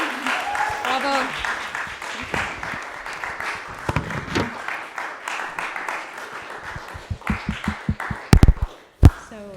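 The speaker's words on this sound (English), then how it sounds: "Maybe another round of applause would be nice." Applause for a music performer at a Codarts conservatory event, a round of clapping that thins out into scattered individual claps, with speech heard over it.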